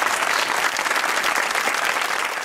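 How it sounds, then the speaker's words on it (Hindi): Audience at a comedy show with Pakistan Army soldiers in Rawalakot breaks into steady, dense clapping, loud and close, sustained throughout without voices over it. "ताली होनी चाहिए"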